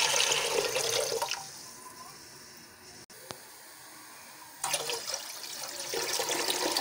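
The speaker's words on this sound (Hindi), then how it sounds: "प्रेशर कुकर में मैं 2 जग पानी ऐड कर रही हूँ।" Water gushes loudly into a pressure cooker, pauses into a quieter trickle with a sharp click, then pours heavily again.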